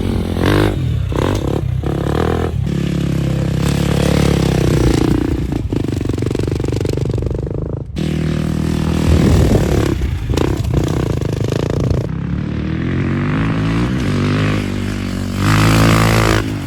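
Dirt bikes ride a motocross track, their engines loud and close, rising and falling as they rev and pass. Clattering and scraping sound under the engine noise throughout.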